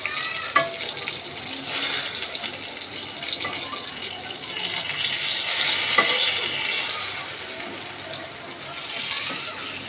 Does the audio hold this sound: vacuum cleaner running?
no